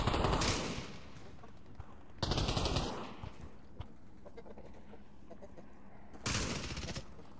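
Gunfire in the VR shooter Pavlov VR comes as three loud bursts of rapid shots, separated by quieter stretches of low background noise.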